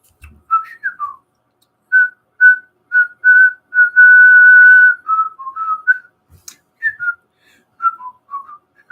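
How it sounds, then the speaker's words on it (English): A person whistles a clear, melodic tune alone, with short notes and one long held tone in the middle, close and bright. "Try whistling today, or warbling, as Wadabebi can do from an early age."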